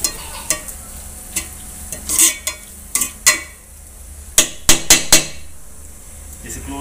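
Beef macaroni mixed with crushed ingredients is stirred in a pan. A spoon scrapes and knocks against the metal in irregular clatters over a soft sizzle, with several sharp taps clustered near the end.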